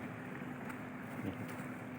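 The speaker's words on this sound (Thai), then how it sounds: "โอ้เสียงเรือนะ" A low, steady motor drone of a boat on the Mekong River, distant and continuous, with faint wind noise and no talking.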